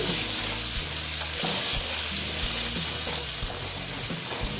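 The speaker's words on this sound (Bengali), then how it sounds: "এখন একটু আস্তে আস্তে আমি আলুটা ভেজে নেব" Potatoes fry with turmeric and salt in a pan, a constant sizzling hiss overlaid with regular scraping strokes of a spatula stirring the pieces.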